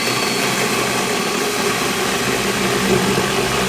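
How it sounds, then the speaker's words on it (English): A Milwaukee M12 FUEL Hatchet 6-inch cordless pruning saw runs continuously with a loud, steady motor buzz and chain rattle. It stays close and unbroken throughout, with no talk over it. "this is the M12 FUEL pruning hatchet"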